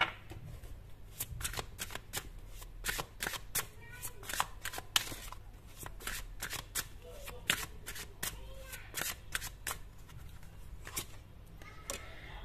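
A tarot card deck is shuffled close up in repeated quick riffling bursts that snap and flutter over about twelve seconds, with someone speaking softly at times.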